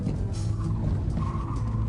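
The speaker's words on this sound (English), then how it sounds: "deliberately throw the weight to send it sideways, and then control the slide with opposite lock" Front-wheel-drive car tyres skid through a Scandinavian flick slide, a continuous rough scrubbing roar with a brief higher squeal, close and loud.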